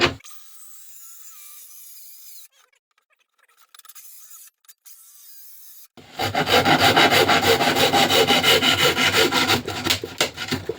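Handsaw cutting through wood during street spot improvements: after a quiet stretch, rapid, loud rasping strokes repeat in a fast back-and-forth rhythm, close up, with no talk.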